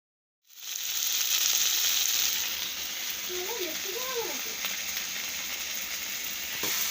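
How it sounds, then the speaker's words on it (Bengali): Sugar frying in a pan during home cooking, a steady loud sizzle that fills the whole clip alone, with a few faint metallic scrapes of a utensil partway through. "এই যে চিনিটা ভাজছি"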